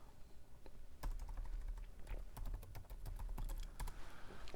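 Ctrl and arrow keys pressed on a computer keyboard while navigating a spreadsheet, giving a string of close, crisp key clicks in irregular bursts with no talk over them.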